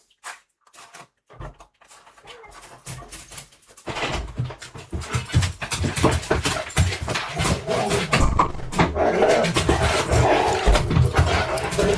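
Several excited pet dogs at home when someone returns from a party, a scuffling burst of yips, whimpers, panting and barks that grows louder and busier after a quiet start.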